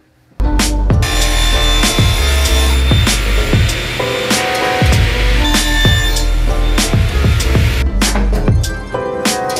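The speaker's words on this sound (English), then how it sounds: "now we're just gonna rip these into 1-inch strips" A saw rips planed wood into 1-inch strips. After a brief quiet start, it roars loud and continuous, with repeated sharp bursts as boards feed through the blade. No one speaks.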